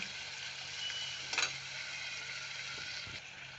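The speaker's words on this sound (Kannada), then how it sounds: "ಕ್ಲೀನಾಗಿ ಈ ಥರ ಗೋಲ್ಡನ್ ಬ್ರೌನ್ ಬರೋಂಗೆ ಕ್ಲೀನಾಗಿ ಫ್ರೈ ಮಾಡ್ಕೋಬೇಕು" Eggplant frying in hot oil with onions gives a steady, even sizzle at close range, with a brief louder crackle partway through and no voices.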